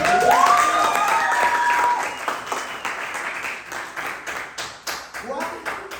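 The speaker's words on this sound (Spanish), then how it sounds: "Un aplauso para" Applause for Priscila at a Christian class gathering: brisk clapping from a group at the start, fading into scattered claps as a voice talks over it.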